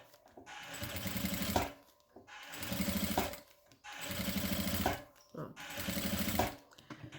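Sewing machine stitching through the fabric lining of a toiletry bag, running in four bursts of rapid mechanical chatter, each stopping briefly before starting again, close and clear.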